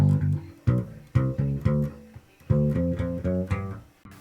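Funk bass line on electric bass guitar, short punchy plucked notes with chromatic approach tones in a syncopated rhythm, close and clear, played alone with no voice.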